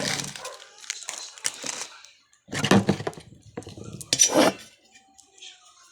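Dishes, pots and utensils being washed by hand at home, clinking and clattering in bursts with pauses between, close by, while people talk over the sounds.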